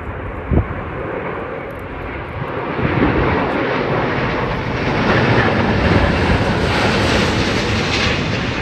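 A Cathay Pacific Airbus A350-1000 XWB jet arriving from Hong Kong passes at Sydney Airport on a windy day, its engines a loud, steady broadband roar that swells slightly and holds throughout, with wind buffeting mixed in.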